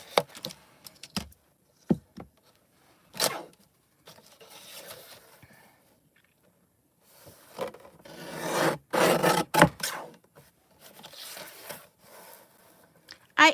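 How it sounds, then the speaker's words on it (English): Hammermill paper is cut down with scattered bursts of scraping, rasping strokes separated by quiet gaps, the longest and loudest run of cutting arriving toward the end. "let me cut this hammer mill down"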